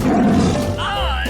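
A tiger roars in a 3D animal slide video game, a loud growling roar filling the short moment while a cheerful synthesized voice and game music play over it.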